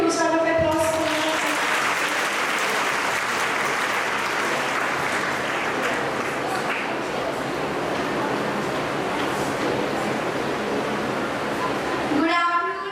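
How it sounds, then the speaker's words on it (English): An audience claps in a loud, dense burst of applause that stays even for about eleven seconds before dying away, with a brief voice heard just before and after. "Let's give a huge round of applause for them."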